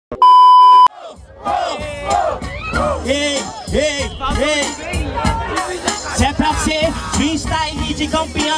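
At a freestyle rap battle, a short electronic beep gives way to a large crowd cheering, shouting and chanting in rhythmic bursts, loud and sustained throughout.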